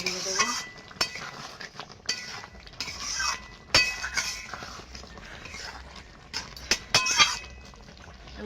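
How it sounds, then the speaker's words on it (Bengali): A metal utensil clinks and scrapes against a cooking pot while stirring an egg curry with lentils and potatoes, irregular sharp clanks and rattles separated by brief pauses, close and fairly loud. "একটু নাড়িয়ে দেবো।"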